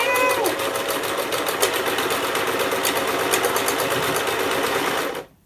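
A sewing machine stitches through scrap fabric with a rapid, even mechanical chatter that runs loud and close for about five seconds, then stops abruptly.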